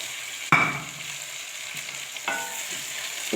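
Chicken hits a hot pan with a sudden sharp sizzle and settles into a steady frying hiss. Brief stirring scrapes break in later, with no voices.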